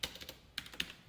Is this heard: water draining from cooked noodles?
no